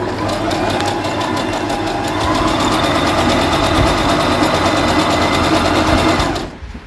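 A Brother JA20 domestic sewing machine stitching a straight seam, its fast steady motor whir and rapid needle clatter running loud and continuous up close before winding down at the end.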